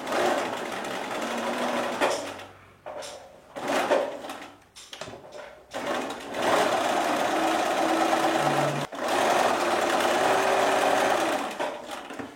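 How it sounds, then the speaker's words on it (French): A sewing machine stitches through thick pinned fabric in several bursts of steady running, stopping and starting between passes, close and fairly loud with no talking. "je vais piquer ce que je viens d'épingler"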